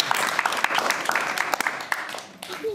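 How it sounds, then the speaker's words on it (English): Audience applause for Tommy James at a Safe Kids & Friends event, dense clapping with sharp individual claps standing out, fairly close and steady before tapering slightly near the end, with speech-like sounds mixed in. "Big round of applause for Tommy James."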